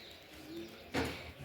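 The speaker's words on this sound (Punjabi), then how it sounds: "ਦੇਖੋ ਪੰਛੀ" A soft bird call, a dove-like coo, sounds faintly in misty fields in the early morning over a quiet outdoor hiss, with a brief rustling burst near the middle.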